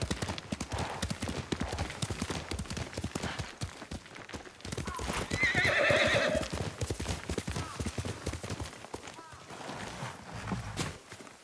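Hooves clip-clop rhythmically at a quick pace as a horse gallops in the video game Ghost of Tsushima, and it lets out a loud whinny midway, with voices speaking over the hoofbeats.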